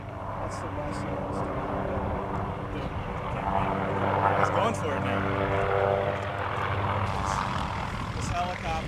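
A Montana Department of Livestock helicopter hovers over a field during a buffalo chase, its rotor and engine drone continuous and fairly near, while people talk underneath.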